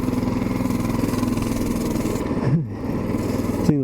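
A Coleman BT200X mini bike engine runs steadily close by as its tires spin in snow, with a brief dip in pitch partway through and a quick rev near the end.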